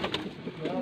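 A racing pigeon gives a brief, soft coo close by, a single short throaty phrase.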